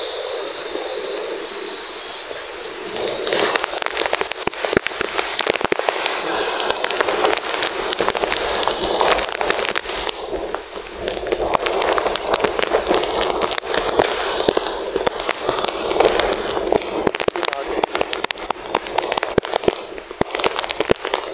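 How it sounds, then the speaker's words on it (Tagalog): Strong Typhoon Uwan wind lashes a coastal area, quieter at first, then surging into loud, roaring gusts full of crackling buffeting that stay intense to the end, with no talking. "Para makita ang wind, ang lakas"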